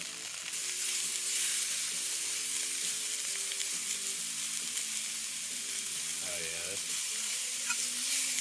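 Meat sears in a pan over an open fire, a steady bright sizzle running throughout at close range, with faint scraping and clinking of the pan underneath.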